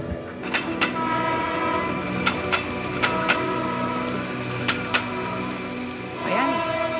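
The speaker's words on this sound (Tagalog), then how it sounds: "Kung kailang nagmamadali tayo, dun pa umulan." Rain falls outdoors in a steady, hissing wash, with a few sharp taps and clicks scattered over the top and a brief rising and falling tone near the end.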